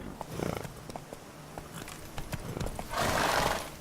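Roach, the horse in the Witcher 3 video game, gallops in a rapid clip-clop rhythm, then breaks into a loud, breathy neigh at the end.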